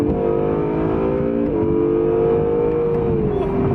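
A 2019 Acura NSX sports car engine pulls hard under acceleration, its loud, steady whine rising and shifting pitch around gear changes, heard from inside the cabin with no talking.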